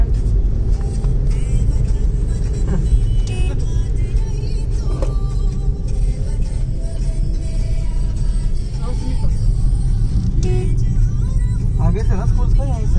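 Family car arriving at a school, its loud, close engine rumble and road noise filling the scene without pause. A voice and other talk run over it throughout.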